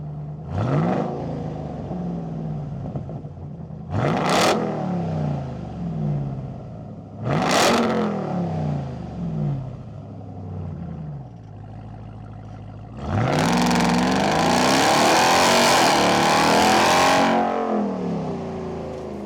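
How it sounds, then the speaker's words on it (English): A 2021 RAM TRX with an MBRP 3-inch T304 stainless steel muffler delete barks through three sharp, separate throttle blips, then holds one longer, louder rev before dropping back to a rumbling idle. "we have an MBRP 3-inch stainless steel T304 muffler delete"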